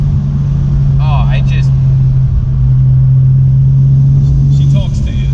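Widebody single-turbo Toyota Supra idling loud and close, a deep steady burbling engine note with brief rev blips and a voice talking over it.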